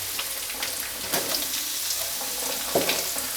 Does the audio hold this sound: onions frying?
yes